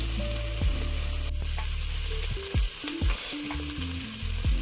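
Spices crackle and sizzle in hot ghee for a fenugreek rice pulav, with close sputtering under steady stirring. No one speaks.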